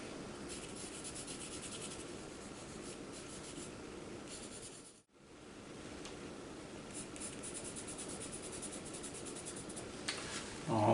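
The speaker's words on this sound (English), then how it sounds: "I'm going to take a layer of color off the surface, kind of like blotting it" Charcoal being rubbed and blotted off the surface of a paper portrait drawing, giving a continuous dry, scratchy friction close by. It drops out briefly midway, then resumes steadily.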